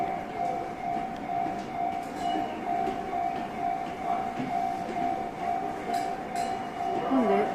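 A passing train rumbles steadily past a railway crossing in Japan, with a sustained crossing bell tone and faint clinks under a continuous moderate roar.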